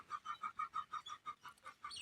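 Hens cluck in a quick, steady series of about a dozen short calls on an organic egg farm, faint and at moderate distance, with no talk.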